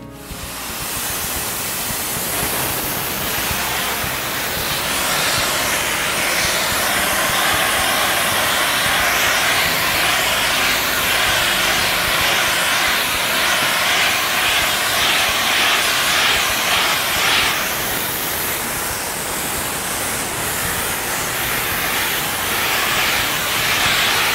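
A spray foam coating rig sprays Perma-Coat with a loud, steady hissing roar that runs unbroken for about twenty-four seconds, dipping briefly in tone partway through.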